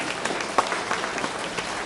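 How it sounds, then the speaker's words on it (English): A crowd at a Guyana independence awards celebration breaks into applause, with brisk, even clapping and a few sharper claps standing out near the front. "Give them a round of applause."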